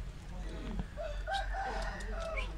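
A rooster crows in a roadside garden dhaba in Balangir, its call rising over a steady low hum of background noise and music, moderately distant and partly under faint chatter.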